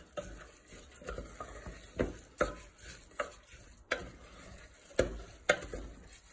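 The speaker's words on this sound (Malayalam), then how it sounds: "സോ അത് നമുക്ക് നന്നായിട്ട് മിക്സ് ചെയ്ത് കൊടുക്കാം." Drained rice stirred into a pot for mint tomato rice, a rhythmic series of close spoon scrapes and knocks against the pot over a soft sizzle.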